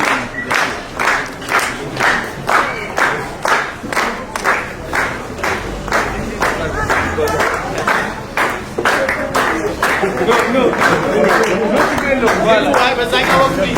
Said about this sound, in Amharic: እስኪ ጭብጨባ ሁላችን